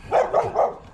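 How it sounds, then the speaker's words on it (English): A dog next door barks three times in a quick, even rhythm, moderately loud and somewhat distant, with no talk over it. "a dog next door."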